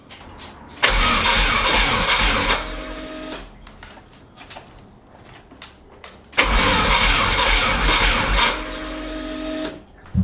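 A starter motor cranks the engine of a Volkswagen T3 van swapped to a Subaru engine, two loud sustained cranking bursts of a few seconds each without catching, separated by a quieter pause with faint handling sounds.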